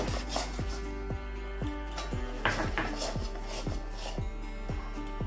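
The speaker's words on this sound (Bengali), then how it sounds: "ছানার পেস্টটা দিয়ে এবার এটা নাড়াবো। নাড়াতে থাকবো, নাহলে লেগে যেতে পারে।" Chhana paste for coconut sandesh is stirred in a pan, with a regular series of utensil scrapes and taps about twice a second over a low steady hum.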